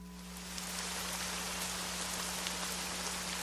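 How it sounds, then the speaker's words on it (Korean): Heavy rain beats against a window pane in a steady, dense hiss of drops that swells in after a quiet start and continues evenly throughout. "세찬 빗방울이 유리창에 들이치고 있었는데"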